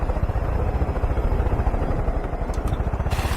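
Steady rhythmic thumping of helicopter rotor blades in the video game Far Cry 5, with a low engine drone, continuous and fairly loud, a couple of brief clicks near the end.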